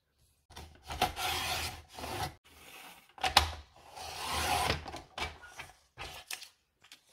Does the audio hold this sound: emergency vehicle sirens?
no